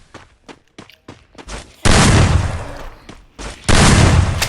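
Gunfire in a shooting video game opens with a series of sharp single shots, then breaks into two loud sustained bursts of rapid fire with a short gap between them, with no voices.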